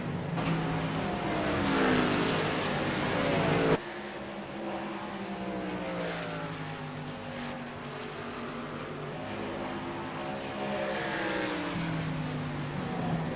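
Race cars circle a track slowly under caution behind the pace car, a steady engine drone that swells as cars pass, with no talk over it.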